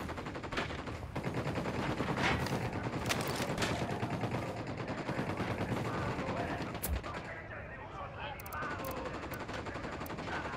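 Gunfire in the video game Ghost Recon Wildlands: dense, continuous rattling automatic fire and overlapping shots forming a loud, steady barrage across the whole stretch, easing briefly near the end before resuming.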